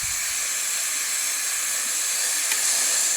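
Steady broadband hiss from a Klindo steam vacuum cleaner running steam and suction together, continuous and fairly loud for the whole stretch with no talk.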